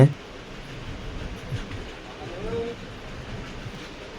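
Passenger train 67279 from Palakollu rolls into Nidadavolu junction, a steady low rumble of wheels and carriages heard from on board, moderately loud and continuous.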